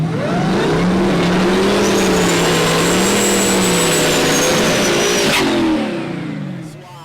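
Drag racing launch at a dragstrip, including a stick-shift Hemi Cobra Jet Mustang: loud, close engines roar and rev continuously with rising pitch as the cars accelerate away, then fade slightly at the end.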